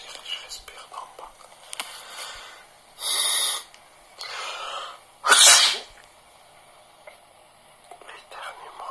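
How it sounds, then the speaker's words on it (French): Two loud, sharp sneezes a couple of seconds apart, with a softer breathy burst between them, over quiet background noise. "L'éternuement"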